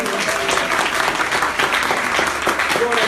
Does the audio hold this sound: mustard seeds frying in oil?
no